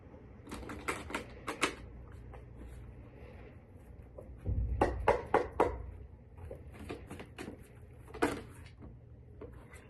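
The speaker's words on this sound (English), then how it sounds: "I'll do one more shuffle." Tarot cards are riffled and shuffled in quick, papery bursts of flicking and tapping, close by and fairly quiet, with short pauses between rounds.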